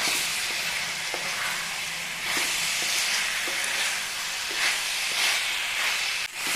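Chicken pepper fry roasts in a pan with curry leaves and slit green chillies, giving a loud, continuous sizzle and hiss. Faint stirring clicks sound now and then, with no voices.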